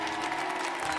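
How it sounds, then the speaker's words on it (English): Applause from a concert audience at the Kennedy Center's Millennium Stage during a Mass church service, a dense steady wash of clapping heard close and loud throughout the brief moment. "join me in giving a round of applause for the Kennedy Center"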